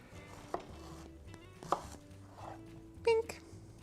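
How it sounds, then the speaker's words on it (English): A knife slices zucchini lengthwise down the middle on a cutting board, giving three sharp, close chopping knocks spaced apart over a faint kitchen background. "now we are going to cut them straight down the middles."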